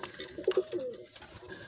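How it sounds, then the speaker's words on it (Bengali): A pair of teddy pigeons cooing in a cage, a couple of soft throaty coos near the start followed by quieter murmuring, close but faint. "এই যে আর এক পেয়ার টેডি কবুতর"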